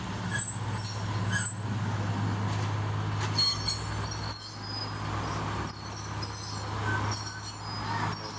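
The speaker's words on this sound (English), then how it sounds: "The rail motor is now backing up into the siding to let pass 3526" A vintage rail motor backs up into a siding on a heritage railway, with a steady low diesel drone, squealing wheels and metallic rail noise continuing throughout at close range.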